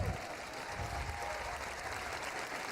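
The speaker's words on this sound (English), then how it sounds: "Yeah, that's right, you better cheer." Audience at a Google I/O 2016 keynote breaking into sustained applause and cheering, a steady dense wash of clapping from a large hall crowd.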